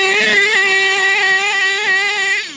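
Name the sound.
nitro RC monster truck engine, HPI Savage, 0.28 engine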